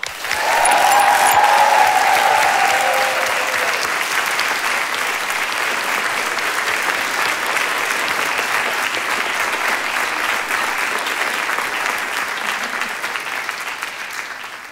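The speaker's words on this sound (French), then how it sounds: "un tonnerre d'applaudissements pour Nicolas Lacroix" A comedy-club audience applauds a comedian walking on stage, a dense, loud burst of clapping that holds steady and slowly fades, with a brief whoop near the start.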